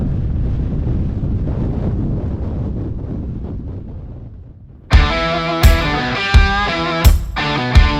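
Wind buffets the microphone outdoors as loud, low rumbling gusts for about five seconds, then it gives way to sharp, repeated tonal hits.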